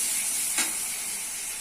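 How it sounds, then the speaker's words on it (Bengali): Spice masala of chili, cumin and coriander powder with salt fries for a chicken curry, giving a brief, steady sizzling hiss with a faint stir in the middle. "মশলা ভালো করে কষে নিতে হবে"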